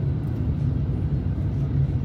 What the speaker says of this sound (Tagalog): nasa eroplano tayo eh.